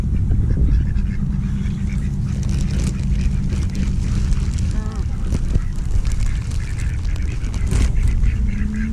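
Ducks quacking among other lake birds while being fed, scattered honks and calls over a noisy outdoor background, with people talking throughout.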